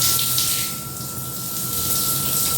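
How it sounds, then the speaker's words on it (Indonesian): Household water booster pump running with a steady tonal hum and water rushing through pipes, the level dipping and rising as it cycles, a faulty unit behaving as if air is trapped in the line. "dari mesin booster air yang hidup mati seolah ada udara terperangkap di pipa"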